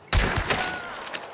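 A sudden sharp burst of gunfire in the video game Hunt: Showdown, a quick volley of shots ringing out and fading into a short echoing tail.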